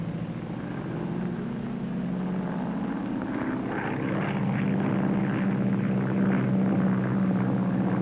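Steady droning engine of a Cessna O-1 (L-19) Bird Dog propeller aircraft in a climbing turn, a continuous pulsing hum that swells slightly louder toward the end, with no voices.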